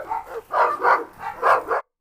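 Rottweilers and Cane Corsos in a tense standoff, with one dog letting out a quick run of four or five close, loud barks in under two seconds before stopping abruptly.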